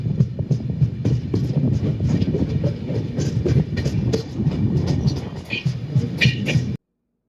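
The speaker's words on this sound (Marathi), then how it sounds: "कोकण रेल्वेच्या मार्गाने आपण मुर्डेश्वर पर्यंत जाणार आहोत." A Konkan Railway train rolls along the tracks, a steady loud rumble with rhythmic clatter and wheel noise throughout, heard from close by on board.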